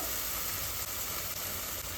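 Turmeric going into tamarind chutney in hot oil brings a steady, close, dense sizzle that runs without a break and has no speech over it.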